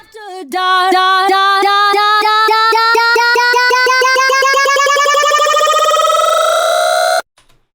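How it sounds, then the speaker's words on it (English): A synthetic, voice-like tone from a pitch-shifted vocal sample for hardstyle music stutters in rapid repeated pulses while its pitch climbs steadily higher for several seconds, then cuts off abruptly. "this is what it's gonna sound when you change the pitch"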